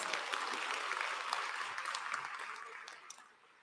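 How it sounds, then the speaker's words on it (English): An audience at a sorority regional conference applauds its award winners, a moderate wash of clapping with a few crisp individual claps that gradually thins and fades away. "Let's give another round of applause for all of our award winners"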